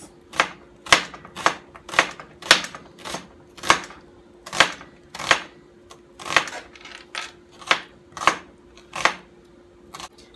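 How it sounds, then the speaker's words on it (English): A knife cuts smoked pork sausages into thin slices on a board in a home kitchen, giving a steady series of sharp, close chopping taps about once a second, with no talking. "now I got some smoked pork sausages, and I'm just cutting them up thin"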